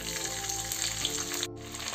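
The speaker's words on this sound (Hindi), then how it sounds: "अब हम यहाँ पर कुछ सब्जियों को फ्राई करेंगे।" Cauliflower frying in hot oil in a pan for a vegetable handi, a dense, steady sizzle and crackle with a brief dip near the end.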